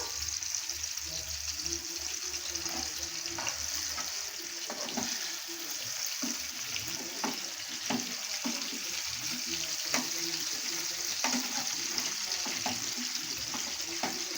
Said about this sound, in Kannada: ಇವಾಗ ಎಣ್ಣೆಯಲ್ಲಿ ಫಿಶ್ಶು ಸ್ವಲ್ಪ ಚೆನ್ನಾಗಿ ಫ್ರೈ ಆಗಬೇಕು